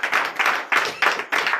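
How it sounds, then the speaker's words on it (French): A church congregation at a night deliverance service in Comè, Benin claps in rhythm, with five or six bright, even bursts of clapping in steady succession, close and fairly loud, with no talking. "Donnez l'acclamation à notre Seigneur Jésus."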